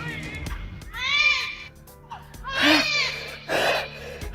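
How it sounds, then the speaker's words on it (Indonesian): An infant cries and whimpers in wailing bursts, with three rising, tonal cries separated by brief pauses, loud and close against a low background hum. "Ini gimana suara bayi itu?"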